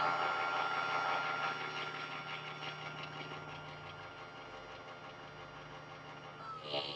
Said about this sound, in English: You can hear the motor on the pump start to work harder when it gets to a certain